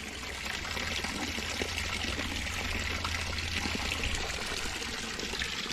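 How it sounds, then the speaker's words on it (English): Water flows steadily in a stream outdoors, a continuous close rushing and trickling wash that holds at an even level throughout with no talking. "still got good water flow."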